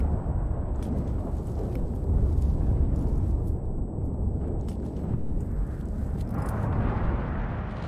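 A continuous roaring, rushing burst of a flamethrower firing in the video game Enlisted, Normandy invasion, blasting steadily, dense and loud throughout with faint crackles on top.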